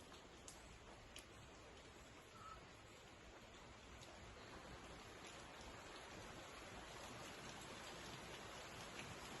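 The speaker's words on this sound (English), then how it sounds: "It's raining here." Steady rain hisses softly and continuously outdoors, a faint, even wash of droplets with occasional small ticks, no voices present.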